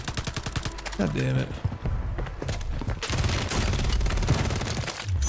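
TAQ Eradicator fire in Warzone 3 comes as loud, rapid automatic bursts with a brief gap, mixed with other game sounds and an excited voice cursing over the shooting.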